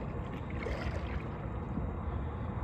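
Kayak paddle strokes dipping through water on a July outing, heard as a steady close swishing and splashing wash with no talk.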